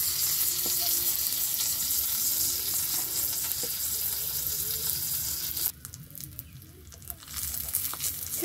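Katla fish paturi wrapped in bottle gourd leaves sizzles steadily in a pan, a close, constant frying hiss that drops away briefly near the end.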